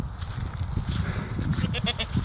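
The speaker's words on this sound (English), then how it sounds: "We came across a farmhouse with a couple of goats." Goats bleating nearby at a farmhouse, several overlapping calls over a low rumbling background.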